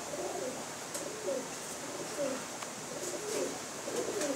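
Kasuri pigeons coo in soft, repeated low rolling calls, a steady series of throaty phrases over faint background noise.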